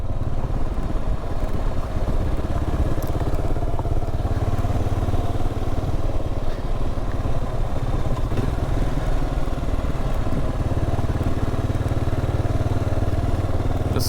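A Kawasaki KLR 650 motorcycle rides steadily along a storm-flooded stretch near Wilson Creek, with a continuous, loud single-cylinder engine drone and road rumble that hold constant throughout, and no one speaking.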